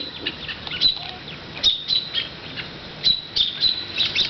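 A wild bird caught by a puppy lets out repeated sharp squawks and chirps in short bursts, close and fairly loud over faint background noise.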